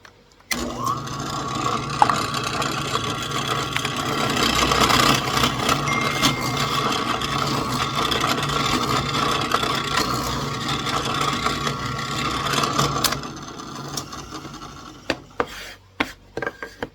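A drill press bores a hole in a steel tractor front axle part with a 19/64 inch bit, giving a steady grinding, whirring drone that runs for about thirteen seconds before winding down into a few clanks and knocks.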